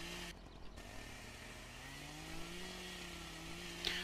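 A chainsaw in Farm Sim 2013 drones steadily at low volume, its engine pitch slowly rising and wavering as it cuts wood, with a brief click near the end.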